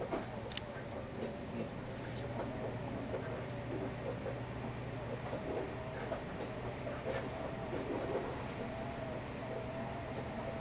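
A Meitetsu limited express train rumbles steadily along the rails between Nagoya and Toyohashi, Japan, with a low hum and faint rhythmic clatter, heard from inside a carriage with a faint voice.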